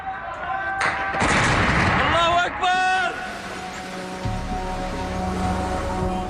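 Artillery shelling of residential areas in Homs, heavy booming impacts and rumbling blasts with sharp cracks, loud and close at first, then a lower continuous rumble; voices are heard in between.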